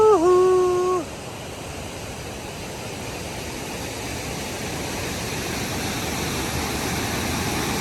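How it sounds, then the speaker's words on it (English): A steady, roaring rush of falling water at Great Falls on the Appalachian Trail fills the whole stretch, loud and unbroken, with a short tonal call at the very start. "Look at the water coming out of this thing."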